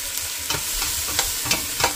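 A few chopped tomatoes sauté in a pot for a salmon-head miso sinigang, with soft steady sizzling and about five distinct stirring scrapes spaced roughly a third of a second apart, no voices.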